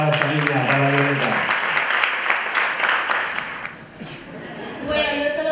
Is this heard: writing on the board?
no